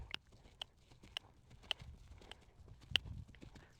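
Horse hooves during groundwork in a trot and canter, sharp isolated hoof strikes at an irregular pace, fairly faint with no talk.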